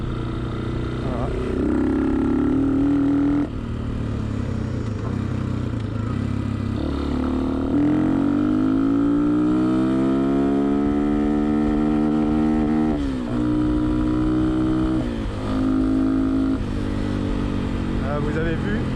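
Honda XLR125R single-cylinder motorcycle running a Chinese CDI from a Honda XL600V Transalp, revving up in long sweeping climbs to the rev limiter and dropping back, loud and close, with someone talking over it.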